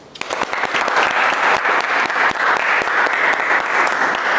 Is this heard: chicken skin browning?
no